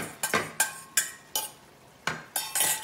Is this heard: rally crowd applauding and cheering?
no